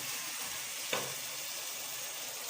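Chicken sizzling steadily in a pan with a tablespoon of Espelette pepper, a continuous broad hiss with one brief scrape of stirring partway through, close and alone.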